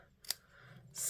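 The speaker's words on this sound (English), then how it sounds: "I'm just going to take my snips and just" A single crisp snip from metal snips cutting through paper for a stamped craft card, quiet and close, followed by a soft rustle.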